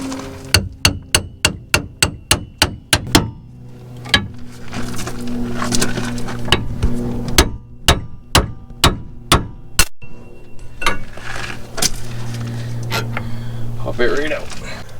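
A GMT 400 truck's tie rod is knocked loose during a front end rebuild. A hammer drives a tie rod fork with a rapid run of loud metallic strikes, then slower, irregular blows under a constant engine-like hum.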